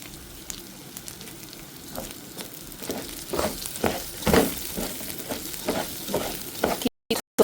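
Rice toasting in a pan on very low heat for veggie fried rice, giving a soft, steady sizzle with intermittent scraping and stirring clatters, close by and without talk, ending in brief cut-outs.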